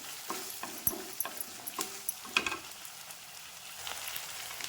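A soft, crackling sizzle of tomatoes with salt sautéing in a pan, with scattered ticks and pops and occasional light scrapes, heard quietly up close.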